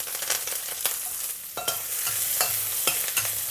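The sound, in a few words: young ginger and spring onion frying in oil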